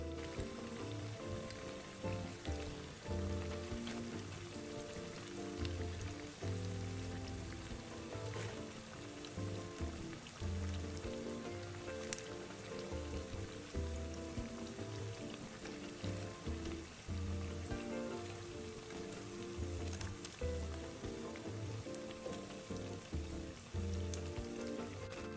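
Vegetable fritters made from a batter without baking powder deep-fry in hot oil, giving a steady dense sizzle and bubbling crackle that runs unbroken at close range with no voices.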